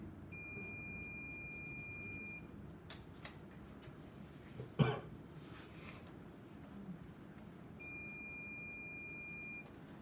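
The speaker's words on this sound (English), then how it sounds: "I just touch the two sides and it should give me beep." A multimeter on continuity test gives a steady, faint high electronic beep at the start and again near the end, with a sharp click from the probes touching in between.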